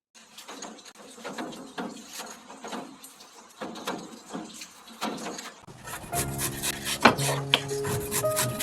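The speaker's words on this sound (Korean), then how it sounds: "무, 호박, 버섯들을 작게 썰어줍니다." Radish, zucchini and mushrooms are cut into small pieces with a knife, giving quiet, irregular chopping taps on a board, then a denser stretch of louder, busier kitchen noise near the end.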